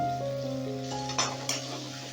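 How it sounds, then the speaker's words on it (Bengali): Tomatoes and salt sizzling in a frying pan, stirred with a utensil, while soft steady frying hiss runs underneath and a couple of sharper scraping clinks of the spoon against the pan stand out. "আবারও এক মিনিটের মতো নাড়াচাড়া করে নিই টমেটোটা নরম হয়ে গেছে"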